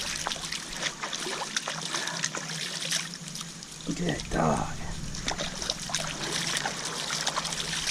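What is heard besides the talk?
creek spring water with dog wading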